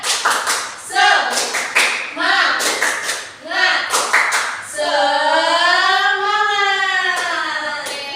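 A classroom of students performs a rhythmic clap chant, with sharp bursts of clapping in a patterned beat alternating with group voices, followed by a sustained sung or chanted note.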